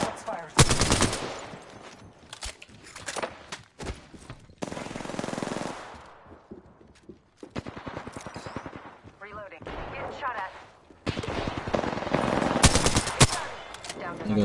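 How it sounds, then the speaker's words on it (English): Rapid machine-gun bursts and gunshots in an Apex Legends ranked firefight, loud close volleys in several separate bursts with pauses between, under occasional talk. "Getting shot at."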